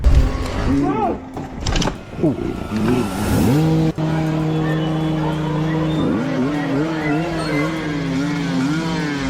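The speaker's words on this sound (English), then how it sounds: "another rider revved his dirt bike loudly, saving them from impending doom." A loud dirt bike engine revs and holds a high, droning pitch, rising and wavering, after a burst of mixed noise and voices at the start.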